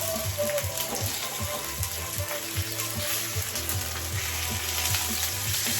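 Chicken fries slowly in a pan with a continuous close crackling sizzle, broken by small scraping or ticking knocks at a steady pace, and no talking.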